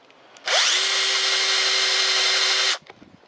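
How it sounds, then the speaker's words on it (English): A Bosch PSB 1800 Li-2 cordless drill bores into pine wood, its motor whirring up then holding a steady, loud, close whine for about two seconds before cutting off cleanly. "It drills pine pretty easily."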